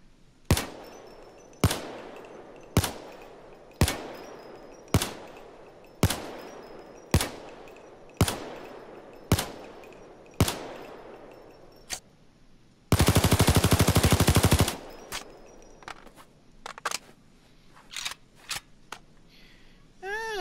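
A series of single sharp gunshots from an L85A2 assault rifle in the game Payday 2, evenly spaced about a second apart, followed by a long rapid burst of automatic fire, then a few scattered shots.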